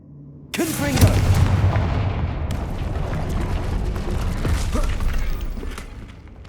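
A Confringo fire-blast spell exploding in the video game Hogwarts Legacy: a sudden loud blast followed by a heavy booming rumble that slowly fades over several seconds.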